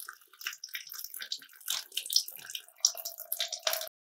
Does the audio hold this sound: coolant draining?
yes